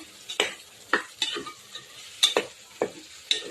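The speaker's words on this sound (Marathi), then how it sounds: "आता हे जरा तेलामध्ये मी परतून घेते." Mixed vegetables sautéed in oil for veg pulao, with sharp spatula strokes against the pan at an irregular rhythm over a soft sizzle.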